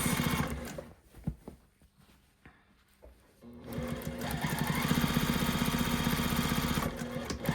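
A sewing machine stitches down a short section of a quilt binding strip, its motor running in a steady loud buzz after a few quieter starts and pauses, with no talking over it.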